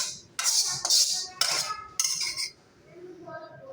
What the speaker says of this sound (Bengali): চিমটি দিয়ে কত বড় কড়াই ধরে নিয়ে ঘুরে বেড়াচ্ছে